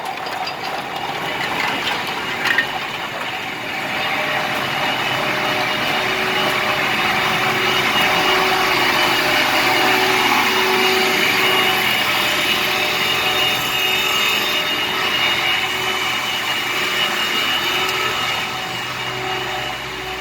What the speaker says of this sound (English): this box cooler here takes outside air and recirculates to cool to take the rest of the heat out